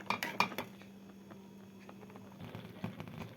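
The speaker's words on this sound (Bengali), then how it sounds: "নুন দিয়ে আমি একটুখানি নেড়ে দেব" Rice and potatoes get stirred in a metal cooking pot, a few clinking spoon-on-pot knocks at the start, then a quiet stretch and more soft scraping near the end, close by and without speech.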